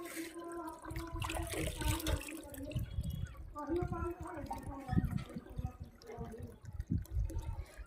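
Tap water runs into a container at home, a continuous splashing, gurgling flow heard close by, with someone talking over it.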